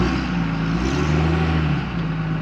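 A truck with a freshly repaired transmission pulls away in drive, its engine droning steadily with a low tonal whine that shifts slightly in pitch, heard close from inside the cab.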